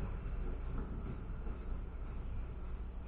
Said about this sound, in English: there's definitely a noise in that wheel bearing